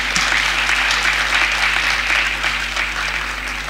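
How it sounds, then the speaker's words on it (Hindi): Audience clapping at a one-day intellectual dialogue event, a dense, sustained round of applause from a large crowd that holds steady and loud throughout, with no speech. "युवाओं की बात पर आप कितना सुंदर ताली बजा रहे थे"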